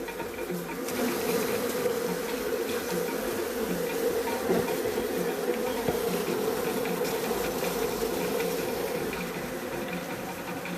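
Honey bees buzz densely around a feeder, a continuous close hum of many wings that holds steady throughout.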